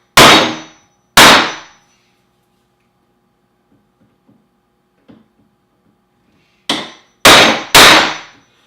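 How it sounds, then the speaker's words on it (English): Hammer blows on a steel chisel while cutting a door hinge mortise: two loud ringing clangs, a quiet stretch with faint taps, then three more sharp strikes in quick succession near the end. "Now I'll switch to the bigger chisel. Cut the top and bottoms."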